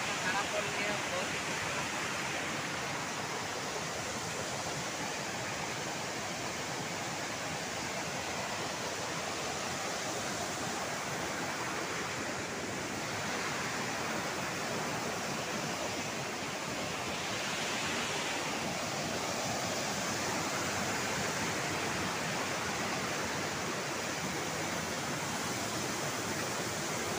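Dhara Fall waterfall flowing in a natural setting, a steady broadband rushing roar that holds even and continuous throughout, moderately distant with no clear speech on top.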